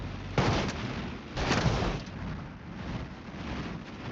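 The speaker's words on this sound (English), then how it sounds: "I think I'm just spamming the explosion button." Explosions triggered over and over in the BeamNG driving game: two sharp, heavy blasts about a second apart, each with a short rumbling tail, over a steady background hum.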